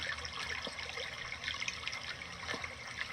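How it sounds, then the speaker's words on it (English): Water trickling and rushing steadily through a small dam, a continuous soft hiss with faint splashing, moderately quiet and unbroken throughout. "The sound is building as the water gets tensed up there."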